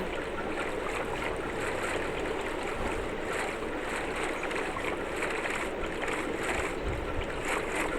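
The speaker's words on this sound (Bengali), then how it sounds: "আমি বোট নিয়ে যাচ্ছি কোথায় আমি নিজেও জানি না" A Minecraft boat glides over water with a continuous rushing, splashing wash and a soft airy hiss, steady and even, with no voices.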